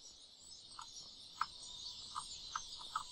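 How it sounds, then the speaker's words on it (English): Birds chirping around a tree in the video game Skyrim, a few short separate calls spread over a steady hiss of ambient background noise, faint and fairly distant, with no one talking. "there must just be a lot of birds that hang out in it"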